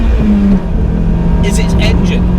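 A nearby car pulls out, its engine a low steady hum beneath continuous road and cabin noise, with faint hissy bursts toward the end, heard from inside a Renault Twingo RenaultSport 133.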